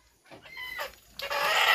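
Large domestic village roosters squawking and clucking in agitated bursts as they are grabbed late at night, close and loud, rising into a harsh flurry at the end.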